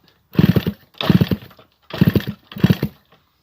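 A Yamaha QT50 moped engine fires up for the first time with no exhaust fitted, roaring loud and raw in four short revving bursts separated by brief pauses.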